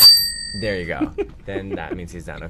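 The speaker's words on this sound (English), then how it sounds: "he will ring a bell, which will sound like this." A small bell rung once at the start, a bright ringing tone that fades quickly before people begin talking in an advice segment with puppets.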